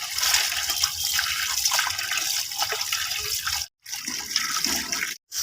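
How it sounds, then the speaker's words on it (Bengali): Spinach leaves being washed in water for a Bengali village palong shak and lentil dish, giving a steady close splashing, running-water wash that continues almost without a break, cut by two brief silent gaps. "এবার শাকটাকে ভালো করে ধুয়ে নেব।"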